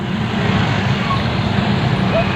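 Dense, heavy road traffic in pouring rain forms a loud, constant roar of engines and wet tyres, with no breaks and no distinct individual vehicles standing out.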